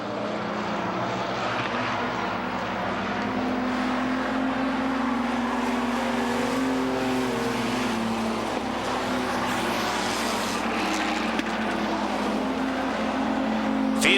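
Modified race cars circle Beech Ridge Motor Speedway running single file, their engines a continuous, steady roar that holds at constant loudness, heard from the grandstand with no talk over it.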